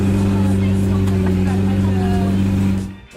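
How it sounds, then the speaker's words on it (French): A sports car, apparently a Lamborghini, revs loudly and steadily with a strong droning engine tone close by. The sound cuts off abruptly near the end. "une voiture de sport donner des coups d'accélérateur"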